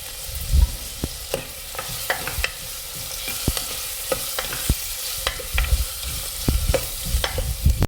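Onion, ginger, garlic and green chili frying in a pan for a chicken curry, a constant crackling sizzle with frequent sharp taps and scrapes of a spatula stirring, close and loud with no voices.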